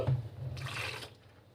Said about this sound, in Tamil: அரைச்சி வச்ச பேஸ்ட்டு கூட தேவையான அளவு தண்ணி மிக்சி ஜாராக கழுவியே ஊற்றிக்கலாம்